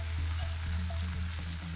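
Cha-om leaves and beaten egg fry in a dimpled pan with a steady close sizzle and crackle, alone and continuous for under two seconds.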